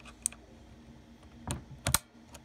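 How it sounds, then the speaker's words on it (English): Typing on a PICTEK mechanical gaming keyboard with blue switches: a few sharp, clicky keystrokes, sparse and uneven, with a tight cluster near the end, close but fairly quiet. "It's like my first mechanical blue switch keyboard"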